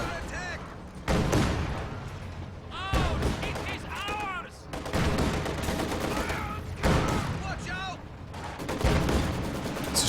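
Rapid bursts of Maxim machine gun fire ring out in a Company of Heroes 2 match, several loud volleys spread across the stretch alongside other battlefield gunfire and what sounds like a voice underneath.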